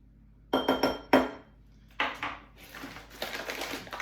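A metal spoon clinks and taps sharply against a small bowl while sugar is measured in for snickerdoodles, a quick cluster of bright strikes followed by scraping and lighter clatter, close and without talk.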